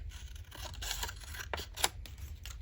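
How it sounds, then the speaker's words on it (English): Scissors cutting along a line in paper for an envelope pocket craft, a few close crisp snips and slicing rasps in short bursts, fairly quiet. "And then I'm going to cut down this line."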